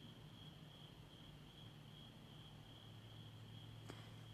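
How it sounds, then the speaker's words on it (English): Crickets chirp faintly outside at night around a dark second-floor room of the Waverly Hills sanatorium. A steady, thin insect trill runs throughout under a low background hiss, with one brief click near the end. "You will hear the crickets outside."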